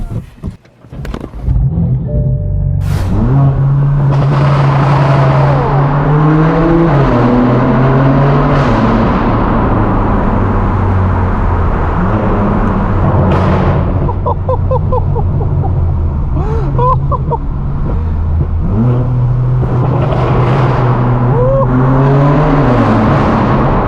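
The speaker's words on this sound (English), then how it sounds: "let's hop inside the M4, put some heat in the motor, and get on with today's POV drive" A straight-piped BMW M4 F82 engine revs repeatedly, loud and close, with rising and falling harsh exhaust notes and crackles, sustained over the whole stretch after a brief startup.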